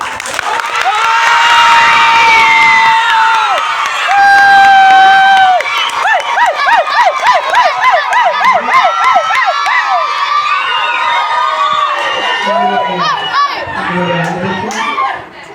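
Loud crowd noise at a village panchayat union school event, with children shouting and cheering over scattered applause, voices rising and falling in excited bursts throughout.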